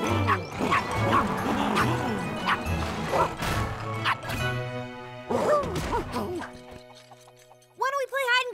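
Cartoon puppies bark and yip excitedly, several sharp high-pitched barks in quick bursts, ending with a whiny, rising yelp.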